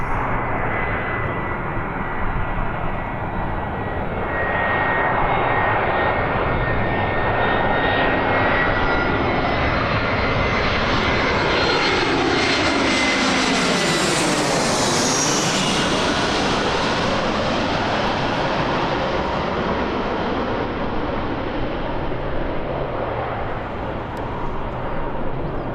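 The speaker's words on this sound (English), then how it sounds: "EasyJet with no transponder on. Sneaking into Birmingham Airport." An easyJet airliner arriving at Birmingham Airport, its engines a loud, continuous roar that swells as it draws closer, peaks as the jet passes overhead, then recedes with a falling Doppler tone, with no speech.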